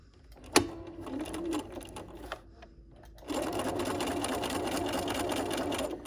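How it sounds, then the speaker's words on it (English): Sewing machine stitching a dog leash, starting with a click and a few slow, uneven stitches, then running in a steady, fast, close whir for the last few seconds. "I'm going to lower my presser foot just like so, and I'm going to stitch"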